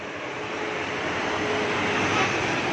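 A train passing near a toll road makes a steady low rumble that swells slightly toward the end, with a faint whistle-like tone riding on top and no clear talking.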